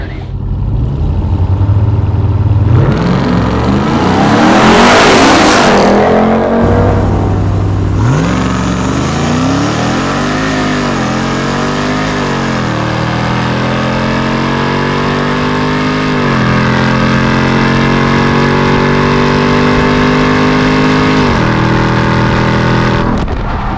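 Two supercharged Ram TRX pickups, a 1000 hp Hennessey Mammoth on 37-inch tires and a 702 hp factory truck, launch in a drag race in 100-degree heat, with loud sustained engine roar and rising revs through repeated gear changes.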